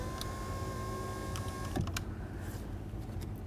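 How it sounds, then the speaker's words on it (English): A Ford Fusion power window motor raises the glass with a steady electric whine for almost two seconds, then stops with a faint clunk as it seats, followed by quiet room noise. "using the switch with the key in the on position, we're going to bring the window up"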